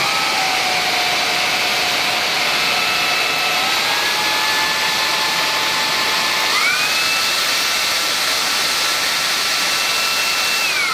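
A Xiaomi Dreame V10 cordless vacuum cleaner runs steadily on its own, a loud, continuous high-pitched whine whose pitch steps up twice as the power setting is raised.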